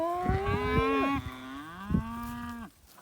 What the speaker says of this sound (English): Let the cattle into the paddock that the sheep were just in.